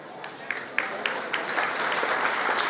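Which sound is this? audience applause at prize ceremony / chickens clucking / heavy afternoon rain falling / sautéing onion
audience applause at prize ceremony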